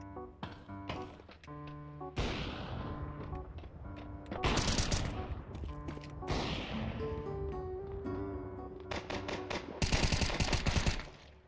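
Rapid gunfire in Counter-Strike 2: sharp, loud shots in quick bursts with dense clusters of cracks, some spaced single shots between them, close and prominent with little talk.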